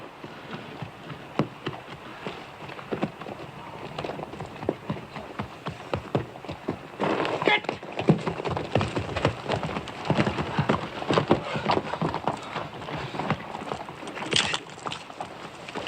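Horses' hooves clop irregularly on wet ground during steady rain, the hoofbeats mixed into the constant patter and growing busier midway.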